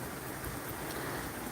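Hurricane Debby rain in Central Florida makes a steady, faint, even hiss with no distinct drops or other sounds standing out.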